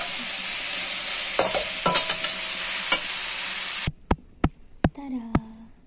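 Bean sprouts and tofu stir-fried in a pan give a loud, steady sizzle with scraping stirs, then the frying cuts out, leaving sparse sharp clinks and taps.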